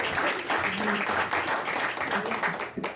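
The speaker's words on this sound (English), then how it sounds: "So a warm round of applause." A lecture audience gives a warm round of applause to welcome a science-history speaker, the clapping dense and steady for about three seconds with a faint murmur of voices in the mix.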